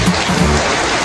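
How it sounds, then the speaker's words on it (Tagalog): Heavy rain pouring down in the Philippines, a dense steady hiss of water that fills the whole short stretch, loud and continuous with no talk over it. "Makalakas ng ulan."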